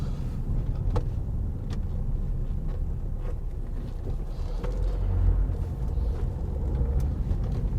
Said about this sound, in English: Priority to oncoming vehicles,